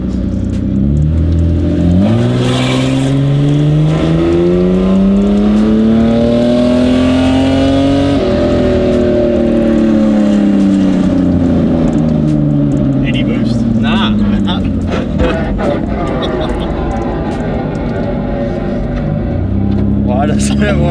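A turbocharged Holden VL wagon engine revs hard on boost, its loud pitch climbing, peaking and sagging over repeated throttle blips, with voices talking over it.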